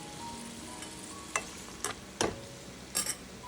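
Chopped onion sizzling in a frying pan as it is stirred for an egg masala pasta, a steady fry hiss broken by several sharp scraping clatters of the spoon against the pan.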